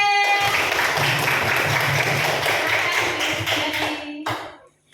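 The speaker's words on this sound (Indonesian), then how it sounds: "Tepuk tangan untuk kelompoknya Mbak Nabila." Classroom applause from students for Mbak Nabila's presentation group, a dense burst of many hands clapping at close range that holds steady, then tapers and stops abruptly near the end.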